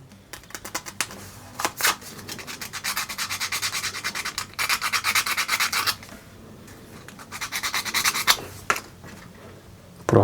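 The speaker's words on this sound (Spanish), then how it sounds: "No quiere entrar, vamos a lijar un poco." A small plastic part from a Dimorphodon 3D model kit is sanded by hand in quick repeated bursts of close, scratchy rubbing strokes, separated by short pauses.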